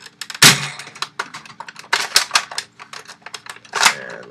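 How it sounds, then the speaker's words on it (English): A short spring from a Night Finder rattles loosely inside a modified Nerf Longshot blaster, giving a loud, close burst of dense metallic clicks and clatters with two sharper knocks. "you can hear the Night Finder spring rattling around in there"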